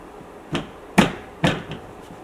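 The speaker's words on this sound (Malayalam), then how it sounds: "ഇതൊന്ന് ടാപ്പ് ചെയ്തിട്ട് ഇത് നമുക്കൊന്ന് ലെവൽ ചെയ്യട്ടെ." A pudding dish is tapped against a surface to level the mixture, giving three distinct knocks with a lighter fourth, close and fairly quiet with no talk.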